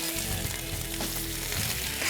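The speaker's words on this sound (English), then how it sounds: "As you can hear the sizzle," Steady, loud sizzling of peppers and onions on a hot FireDisc griddle, a continuous broadband hiss with faint crackles and no talking.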